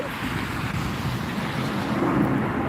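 Strong gusting wind of around 40 mph buffets the microphone at Las Vegas airport, a steady, loud, rumbling roar that swells slightly near the end, with no voices.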